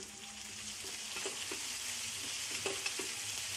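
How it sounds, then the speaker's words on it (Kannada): Spices crackle and sizzle in hot oil for a tempering, with fenugreek powder among them, a steady faint fry with small stirring clicks throughout. "ಒಂದು ಸ್ವಲ್ಪ ಹಾಕ್ಕೊಳ್ಳಿ ಇದಕ್ಕೆ ಒಗ್ಗರಣೆಗೆ ಫ್ರೈ ಮಾಡಬೇಕು ಅದನ್ನು."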